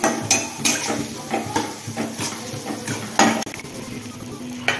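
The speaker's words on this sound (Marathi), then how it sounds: "कांदा पण थोडासा परतून घ्यायचा।" Onion with turmeric sizzles in a pan while a spoon stirs and scrapes against the metal in quick, irregular clinks over a steady frying hiss.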